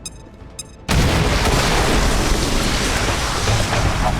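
Acid grenade going off in XCOM: Chimera Squad, a sudden loud boom after a quiet moment, followed by a sustained roaring, rumbling wash of blast noise.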